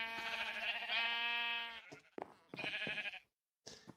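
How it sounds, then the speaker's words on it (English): Minecraft sheep on a wool and mutton farm bleat in quiet, close calls: a long wavering bleat followed by a few shorter ones separated by brief silences. "Also some quite cool sheep using name tags"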